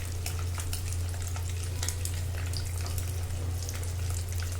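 Boiled eggs, peeled, frying in turmeric-tinted oil for an onion egg curry, a steady close sizzle and crackle with occasional spattering pops and a constant low hum underneath, without any talking.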